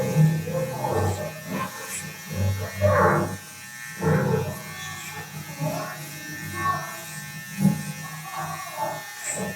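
An ENCHEN Beardo 2 multi-functional electric trimmer buzzing as it cuts a person's own hair, its motor hum rising and falling with each pass, close and fairly loud, with speech in between.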